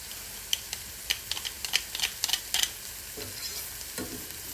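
Garlic frying in a pan, with a soft steady sizzle under a run of sharp clicks and scrapes as it is stirred, fairly close and moderately quiet.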